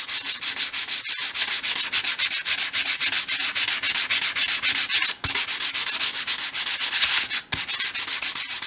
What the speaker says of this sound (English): now I'm using 180 grade sandpaper just to sand them back a bit